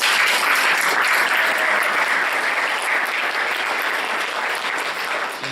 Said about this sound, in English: Everybody give a round of applause to Melissa.